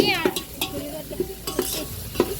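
A spoon scraping and stirring curry in a frying pan, rhythmic clinks against the metal over a soft steady sizzle.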